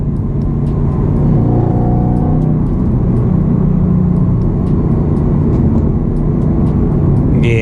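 Camaro ZL1 1LE with its supercharged engine and 10-speed transmission, heard from inside while driving as a loud, steady rumble with a faint whine running through it.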